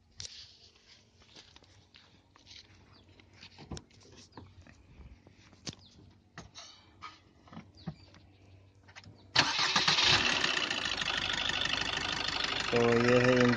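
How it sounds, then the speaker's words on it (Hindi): A Maruti Suzuki S-Cross 1.3-litre diesel engine cranks and catches partway through, then settles into a loud, steady idle with a rough clatter; faint shuffling and clicks precede it. "आपको इंजन को स्टार्ट करके दिखाता हूँ।"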